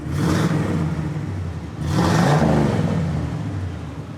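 A factory 1969 Oldsmobile 442 convertible, ebony black, runs on a cold January day, its engine rumbling steadily nearby with two swelling revs, one early and a stronger one near the middle.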